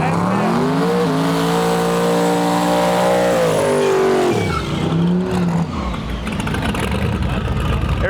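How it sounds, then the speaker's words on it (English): A C10 Silverado pickup launches at a no prep drag racing shootout, its engine revving high and rising in pitch, then dropping away, followed by a rough loud roar and crowd noise in the open air. "The C10 Silverado coming up against this beauty."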